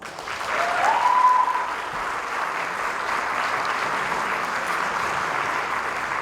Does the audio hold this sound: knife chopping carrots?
no